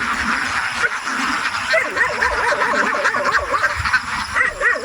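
A large flock of around 500 domestic ducks on a farm quacks densely and continuously, with many overlapping, repeating calls close by and at steady loudness throughout.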